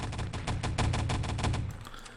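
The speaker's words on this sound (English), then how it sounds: "Double airstrike comes out from Outlaw" Airstrike explosions in the Enemy Territory shooter pound in a rapid string of close, sharp blasts, almost evenly spaced, tapering off at the end.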